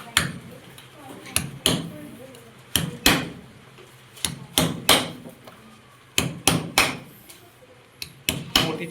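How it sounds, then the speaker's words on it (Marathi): Small holes punched into a plastic can lid with a sharp tool, a series of sharp knocks and taps in irregular bursts, close and fairly loud against a quiet room. "यानंतर या टोपणाला छोटी छोटी छिद्र मारून घ्यायची आहेत।"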